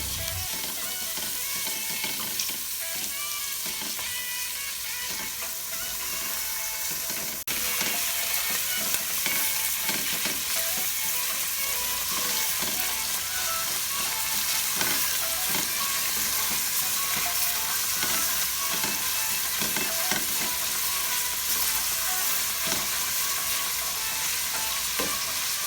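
Ground pork frying and being stirred in a pan for Filipino creamy sopas, a steady close sizzle with scraping spatula strokes throughout, no talking.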